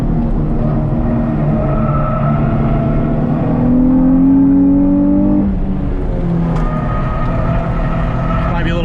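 Modified race car lapping the Lime Rock circuit on a track day, engine droning loud and steady from inside with shifting pitch as it accelerates and brakes; a driver talks over the motor.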